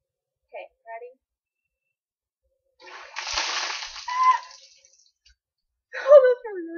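Ice water from a bucket splashes over a person in a dress, heard as a sustained splash and splatter of about a second and a half in the middle. Brief voices come before it, and speech and a squeal follow.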